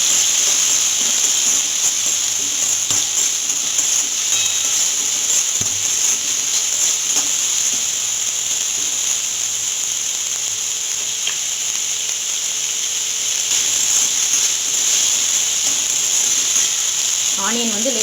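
Onion, green chilli and chopped curry leaves sautéing in oil, a steady close hiss and gentle sizzle running the whole time with a few soft scrapes and taps of a spatula.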